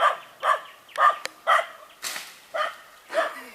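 A small dog barks outdoors in a garden, seven or eight sharp, close barks spaced about half a second apart in a steady rhythm, with no talk over them.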